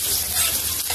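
Sliced onions fry loudly in a pan, making a dense, close, continuous sizzle with a brief stirring rustle.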